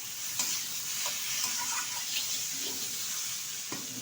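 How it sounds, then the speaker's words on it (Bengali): Taro and potatoes, boiled with salt, being stir-fried with spices in a pan: soft sizzling with intermittent scraping and stirring clicks of a utensil, fairly quiet and close, with no talk. "এখন ভালোভাবে আমি মশলার সাথে কচু আর আলুটা কষিয়ে নেব।"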